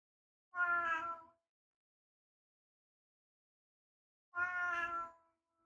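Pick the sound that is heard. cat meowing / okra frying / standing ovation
cat meowing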